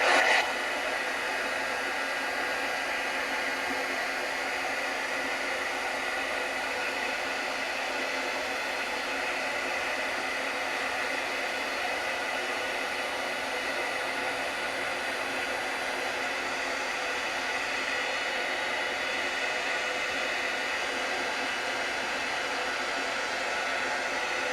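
A heat embossing tool blows hot air over paper painted with Distress products, a steady, even whirring hiss that runs unbroken for about twenty-five seconds.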